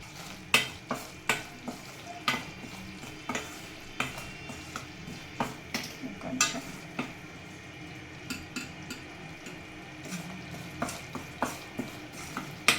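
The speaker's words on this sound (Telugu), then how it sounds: "మాడిపోకుండా తిప్పుతూనే ఉండాలి" A spoon stirs masala in a hot pan while cooking kadha, with regular scraping clicks and knocks over a low steady sizzle, close by and with no voices.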